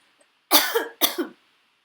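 Two sharp coughs in close succession, loud and near, with silence around them.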